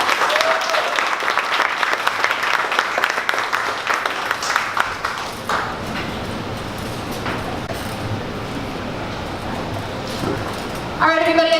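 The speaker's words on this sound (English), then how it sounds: "one more round of applause for Bold Idea" Audience applause rings out for Bold Idea at a 1 Million Cups Dallas startup gathering, dense clapping for about five seconds that thins into a low background murmur with some talk.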